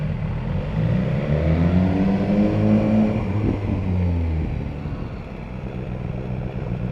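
A 2019 BMW S1000R motorcycle revs toward 6,000 RPM against its pit lane speed limiter, a loud, close engine drone whose pitch climbs and wavers for several seconds before dropping back to a lower, rougher idle-like rumble.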